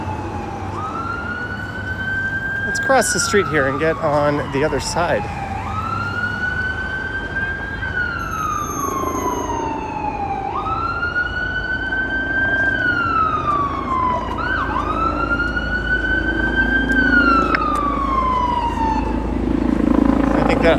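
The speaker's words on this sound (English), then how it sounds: "Sounds like another ambulance approaching." Ambulance siren wailing in repeated rising-and-falling sweeps as it approaches along a busy downtown Toronto street in the evening, loud and close over steady traffic rumble, with a person talking briefly partway through.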